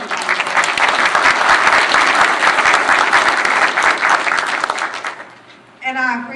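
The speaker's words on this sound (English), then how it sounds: "I think we should give David a round of applause," Round of applause from the audience at a regional State of the Region meeting, steady dense clapping for about five seconds before fading, then a voice briefly starts speaking at the end.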